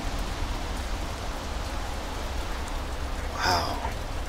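Steady rain hissing evenly throughout, with a brief brighter swell of patter near the end.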